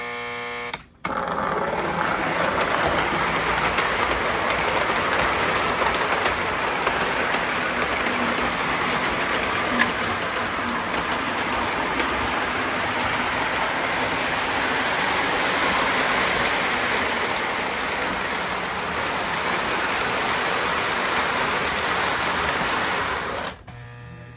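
A Lionel model electric train runs steadily on layout track with wide radius curves, a continuous close whirring hum and rail rumble lasting the whole stretch, starting and ending abruptly.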